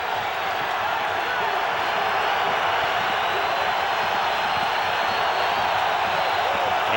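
A football stadium crowd at a Broncos at Raiders game roars steadily as fans rise, a broad, sustained wash of noise that stays loud and unbroken from start to finish.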